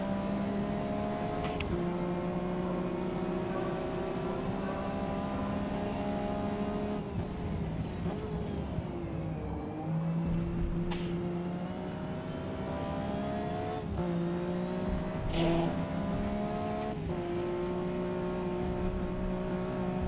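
A BMW race car in Forza Motorsport, running its default tune, drones steadily through a continuous engine note whose pitch climbs and dips with repeated shifts and revs over the whole stretch, loud and unbroken.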